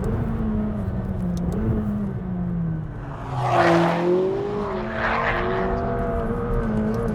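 A turbocharged McLaren engine drives on, a steady tonal drone that swells and sags in pitch, with two bursts of rushing hiss as it surges harder midway through. No voices.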